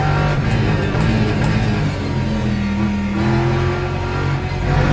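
A race car in Le Mans Ultimate drones loudly from the cockpit, a continuous dense engine roar with steady tonal whine and slight pitch shifts, no talk.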